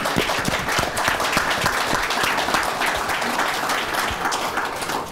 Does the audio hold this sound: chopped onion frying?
no